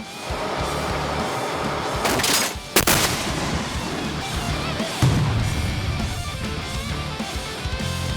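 Heavy rumbling background at a training range with a couple of sharp, loud blasts from a tank gun, then continued low roaring and a smaller thump later.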